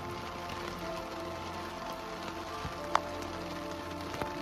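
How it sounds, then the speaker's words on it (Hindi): Heavy rain drums steadily on the covered tarpaulin roof of a safari vehicle in Jim Corbett National Park, a dense continuous patter with a few louder drips close by. "बहुत बारिश हो रही है।"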